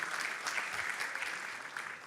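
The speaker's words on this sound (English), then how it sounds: "Big round of applause." Audience applause at an open source conference, a steady wash of many hands clapping that holds evenly throughout, with no voices standing out above it.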